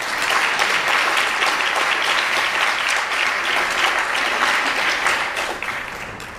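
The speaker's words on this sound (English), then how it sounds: "I think that deserves an applause." Audience applause fills an awards ceremony hall, a dense, steady wash of clapping from many hands that holds loud for about six seconds and then begins to taper slightly at the end.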